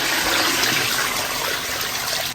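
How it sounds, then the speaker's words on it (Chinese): Water pours steadily into a pot of braising liquid with spices and soy sauce for pig ears, a continuous close gushing splash. "加入清水"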